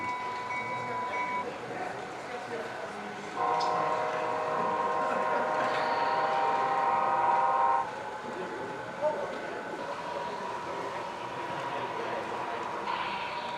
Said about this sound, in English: he decided to fire up the trains for us